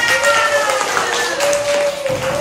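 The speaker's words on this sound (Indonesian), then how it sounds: "tepuk tangan" A classroom of students claps for the groups that presented, in a steady, loud patter that fills the room, with a thin whistling tone running underneath.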